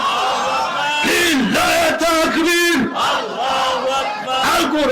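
A large crowd at an outdoor Islamic waz mahfil gathering roars a takbir response in unison, loud, sustained rounds of shouting from many voices.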